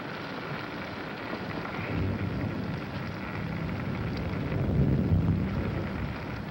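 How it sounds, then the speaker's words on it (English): Steady rain and wind noise from a storm in a 1941 film, a dense hiss that swells slightly toward the end with a low rumble beneath, no voices. "It's raining."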